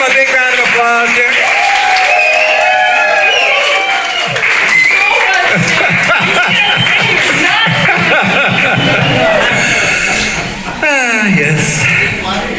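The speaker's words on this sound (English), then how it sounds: "Can we give them a big round of applause here?" An audience claps and cheers at a live event, the applause swelling into steady dense clapping mixed with crowd noise, with voices calling out over it near the end.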